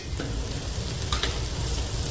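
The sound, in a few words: ghee sizzling with cooked onions in a pan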